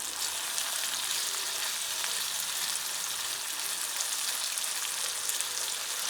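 Food fries in a carbon steel frying pan at an overnight camp, giving a steady, dense crackling sizzle that continues without a break and with no talking.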